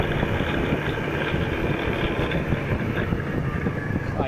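A Honda PCX150 scooter accelerates with a cranky noise from its CVT, a steady, dense engine rumble with some wind buffeting, running continuously and fairly loud throughout.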